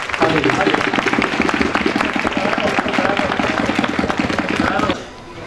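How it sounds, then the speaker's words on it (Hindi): A church congregation claps loudly and continuously for about five seconds, a dense, close wash of applause filling the room before it abruptly fades out. "खुदा के जलाल के लिए हम जोरदार तालियां बजाएं।"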